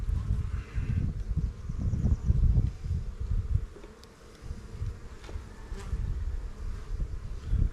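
Honeybees buzzing in a dense, steady drone around an open hive during an inspection, loud and close, dipping briefly midway before swelling again.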